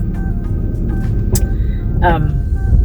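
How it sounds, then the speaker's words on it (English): A car idles in traffic in Winchester, Tennessee, a steady low engine rumble filling the background while someone talks close by. "I'm sitting here in traffic in Winchester, Tennessee"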